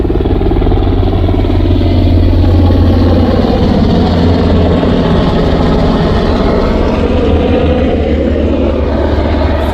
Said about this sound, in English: The helicopter is helicoptering.